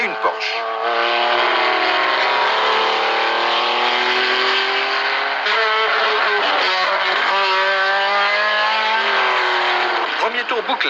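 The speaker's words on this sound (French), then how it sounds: "Peloton déjà très étiré des 55 voitures, ou plutôt 53, car 2 concurrents sont restés immobilisés au départ" Race cars at the 1975 24 Hours of Le Mans roar past in a steady, loud stream of high engine whine, with pitch sweeps as cars pass and a commentator talking over the noise.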